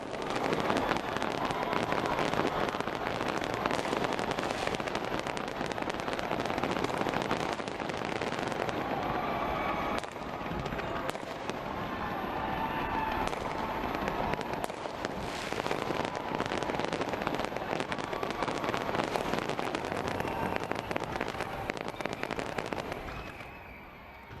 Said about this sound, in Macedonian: Највпечатливиот дел, како и секогаш, е огнометот.